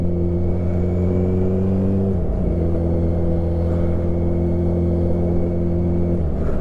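Kawasaki Ninja 1000 SX fitted with a Black Widow exhaust cruising in sixth gear, a steady loud droning engine note that dips briefly around two seconds then holds even, with no talking.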